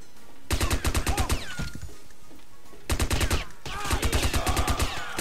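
Bursts of rapid synthetic pistol fire in the video game James Bond 007: Nightfire, two clusters of quick shots separated by a brief lull, loud and close.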